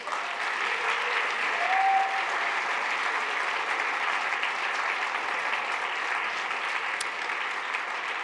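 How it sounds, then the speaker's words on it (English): Sustained applause from an audience for fourteen doctoral candidates at the EPFL 2025 MT180 final, a dense, steady clatter of many hands lasting the whole stretch without pause. "Je vous propose qu'on les applaudisse de nouveau."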